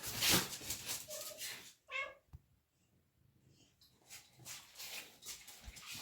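A cat's meow rises briefly out of a noisy room, with rustling and handling sounds around it before and after.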